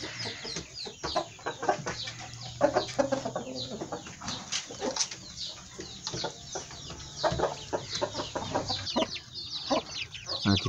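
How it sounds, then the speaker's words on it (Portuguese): Chicken rooster and small chicks on a Chinese poultry farm, busy overlapping clucks and high peeping cheeps close by, continuous and irregular, with low background noise. "Aqui tem outro galinho com alguns pintinhos também"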